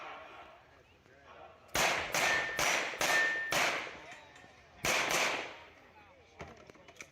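Pistol shots ring out at a USPSA shooting match, with quick clusters of sharp cracks including double taps, heard at moderate distance and separated by short pauses.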